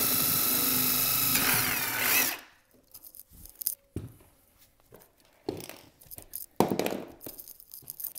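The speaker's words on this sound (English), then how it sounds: "now I'm just going to use the big drill bit" A power drill with a big bit bores a hole while making a cheap DIY wall or ceiling mount for an Amazon Echo Dot: a loud, steady whine for about two seconds, then quiet handling clicks and rustles.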